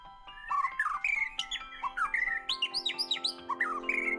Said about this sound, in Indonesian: Keberadaan murai batu semakin terancam di alam liar.